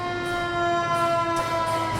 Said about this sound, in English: No, that was the siren.